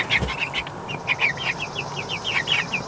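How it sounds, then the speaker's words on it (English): Chickens in a coop peep and cluck in quick, repeated high calls, close by, with a steady low background hum underneath. "that's our chickens"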